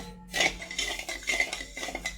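A spatula scrapes and clinks against a pan while sugar syrup with cracked cardamom is stirred, producing a few quick, close metallic strokes in a brief burst.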